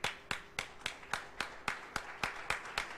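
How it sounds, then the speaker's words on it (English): Steady clapping of hands heard in the Seven Boys 2 video game, about eleven sharp claps at an even pace, moderately close and alone with no voices. "there was a sound of applause not far from here."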